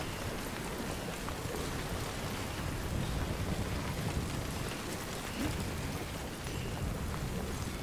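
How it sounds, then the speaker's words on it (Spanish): Heavy thunderstorm rain in the video game Death Stranding, a dense, steady downpour that hisses evenly from start to finish with a low rumble beneath it and no voices. "¿Es nueva esta tormenta?"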